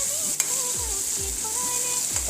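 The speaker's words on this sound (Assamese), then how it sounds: "এয়া পেটুখিনিয়ে পিঁয়াজখিনিয়ে ধুনীয়াকৈ ভাজি আছোঁ" Fish belly and onion frying together in a pan give a steady, close sizzle with a few light clinks and stirring scrapes running through it, and no one speaks.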